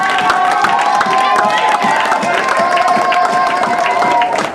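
A church congregation cheers and shouts in acclamation of the Lord, a loud, sustained crowd roar with scattered claps and voices across the whole stretch.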